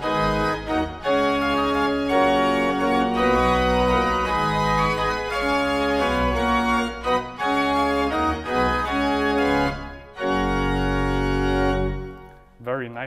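A pipe organ from an extremely rare builder plays loud, sustained full chords with every Positiv stop drawn, the bright, dense tone briefly pausing between phrases before a final held chord and release.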